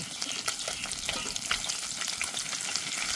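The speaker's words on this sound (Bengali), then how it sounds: "মাছগুলো এক পাশ ভালো করে ভেজে নিয়েছি" Fish pieces fry in a pan after being turned, a soft continuous sizzle with fine crackling spits and faint stirring, close but fairly quiet, no voices.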